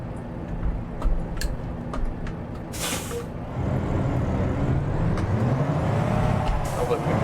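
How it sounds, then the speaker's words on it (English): A heavy truck engine in American Truck Simulator rumbles and stutters with a brief hiss of air as a weak engine brake engages, then settles into a droning low roar under occasional ticking. "It's got one of the weak Jake brakes in it."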